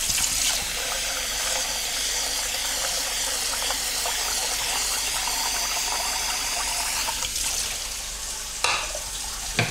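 Water poured into precooked chicken broth in a home kitchen, a steady close hiss of running liquid lasting several seconds with a brief change near the end.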